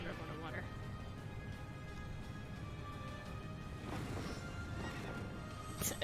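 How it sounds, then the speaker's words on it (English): A ghost horse neighs in the video game Child of Light, a clear whinny over clip-clopping hooves and game sounds, with a sharp accent near the end. "That's a ghost horse."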